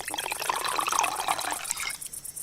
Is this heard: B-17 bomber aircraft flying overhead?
no